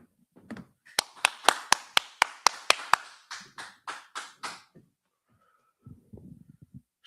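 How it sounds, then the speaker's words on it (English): Rhythmic clapping at a class gathering: about a dozen sharp, evenly spaced claps, then a few softer ones, a pause and brief murmuring voices. "All right, clap it up."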